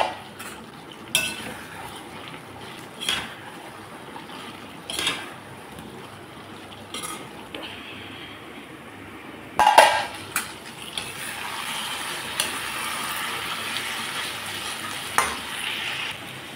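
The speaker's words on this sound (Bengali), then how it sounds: "2 মিনিটের মতো আমি ঢাকনা ছাড়াই এখন কষিয়ে নেব।" Taro and potato curry with green chili, stir-fried uncovered in a pan: a quiet, steady sizzle broken by scattered clinks and scrapes of a utensil against the pan, with the frying growing a little louder toward the end.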